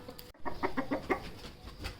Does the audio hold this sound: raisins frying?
no